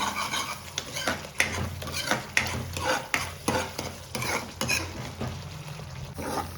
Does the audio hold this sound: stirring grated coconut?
yes